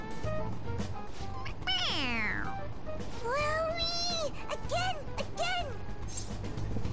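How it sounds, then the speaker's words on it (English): A stuffed toy cat from the game Persona 5 Royal lets out a series of close, clear meows with rising and falling pitch, several in a row over steady background game music. "It meows when you press on its head."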